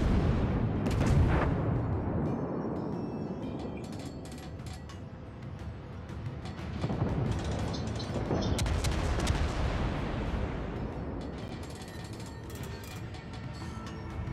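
Naval gunfire and shell hits in World of Warships, played as the battleship Colorado: heavy booming salvos and rumbling impacts rolling over one another, loud and dense, with bursts of crackling debris and no talk.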